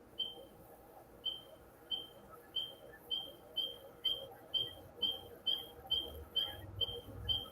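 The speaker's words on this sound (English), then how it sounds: "We got chirping frogs, so copyright." Small chirping frogs give a steady series of short, high, evenly spaced chirps, about two per second, fairly faint over a quiet low background hum.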